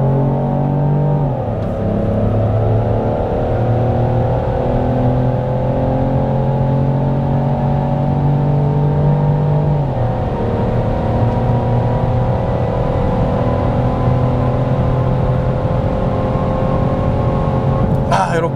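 Peugeot 3008 crossover with a 1.2 PureTech petrol engine driving through a road tunnel, a steady in-cabin engine drone with reverberant road and tire roar, rising slightly in pitch as it accelerates, continuous and fairly loud.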